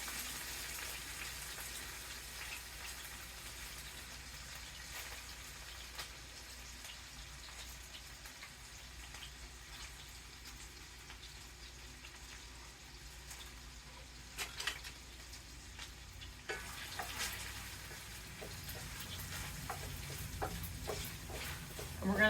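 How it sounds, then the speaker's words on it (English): Onions sauté in a pan with a steady, soft sizzle and crackle, stirred now and then, close by and fairly quiet throughout. "We're going to go ahead and saute some onion."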